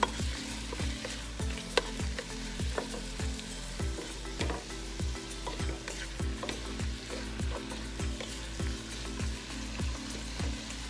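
Chicken seasoned with fish sauce and black pepper is stirred in a pot, with a spoon scraping and knocking in a steady rhythm, roughly twice a second, over a constant sizzle, close and with no voices.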